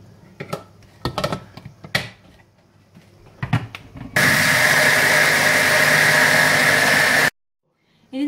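A kitchen mixer grinder blends tomatoes and onions with water. Some scattered knocks and handling taps come first, then a loud, steady motor whir runs for about three seconds and cuts off sharply.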